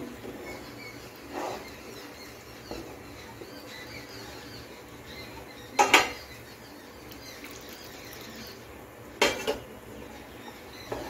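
Vegetable soup stirred in a pot after cornflour slurry goes in: a quiet kitchen with a few sparse spoon clinks and knocks against the pot, spaced seconds apart, and no speech.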